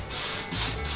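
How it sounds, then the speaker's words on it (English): A cottonwood round cookie is brushed off before end grain sealer goes on, giving about a second of close, steady scrubbing strokes with no voices. "First of all, we start off brushing it off."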